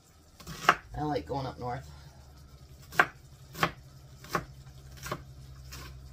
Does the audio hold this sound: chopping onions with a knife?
yes